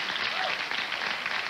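Studio audience applause on a 1989 late-night talk show, a dense burst of clapping from a crowd that stays strong and even for a short stretch.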